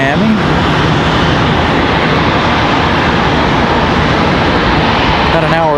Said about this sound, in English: American Airlines 3104 from Miami.